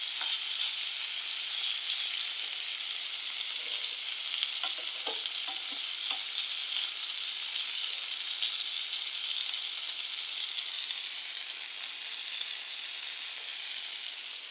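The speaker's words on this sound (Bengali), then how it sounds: "তো আমি পুঁই শাক রান্না করতেছি, আলু দিয়ে ভাজি করতেছি।" Fresh rooftop-grown Malabar spinach being stir-fried with potatoes, giving a constant close, hissing sizzle with occasional faint scrapes and clicks from stirring, steady throughout.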